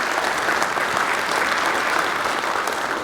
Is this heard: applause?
yes